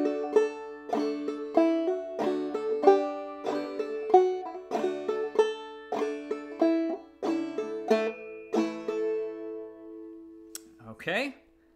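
Clawhammer banjo picks the opening four measures of the fiddle tune Soldier's Joy, bright plucked notes and thumb-string strums in a steady bouncing rhythm, close and alone, ending with a brief handling rustle.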